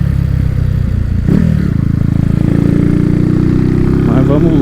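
A Honda Fan 125 motorcycle with a noisy clutch bell runs nearby, giving a steady, vibrating engine rumble with a rattling, clattery edge that grows slightly heavier partway through.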